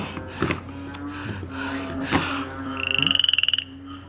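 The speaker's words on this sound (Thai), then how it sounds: "นึกว่าเสียงคางคกอึ่งอ่างร้อง" Toads and frogs croaking, a rapid pulsing trill near the end after murmured voices and clatter, close and fairly loud over a steady low hum.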